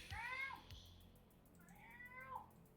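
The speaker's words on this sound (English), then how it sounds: "There's the cat again." A cat meows twice, a rising-falling call near the start and another around two seconds in, at a moderate distance with faint low thumps and background noise between the calls.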